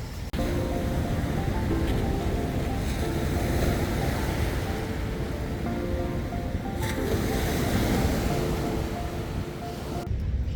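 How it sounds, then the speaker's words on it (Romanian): Ocean waves break on a beach in Bali, a loud, continuous roar of surf with wind buffeting across the whole stretch and no voices. "se vede cum se sparg valurile acolo"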